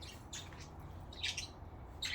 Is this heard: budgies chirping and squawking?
yes